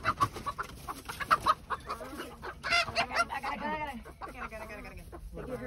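Chickens and a rooster inside a coop, with dense, agitated clucking and squawking close by, continuous and fairly faint.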